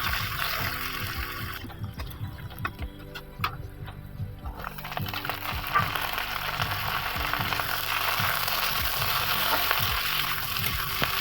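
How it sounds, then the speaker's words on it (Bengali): Sliced onions sizzle in hot oil in a pan after fish has been fried for a vegetable fish curry, a steady close crackling hiss with stirring scrapes and no talk. "তো তেলের মধ্যে দিয়ে দিলাম পেঁয়াজ সম্বার।"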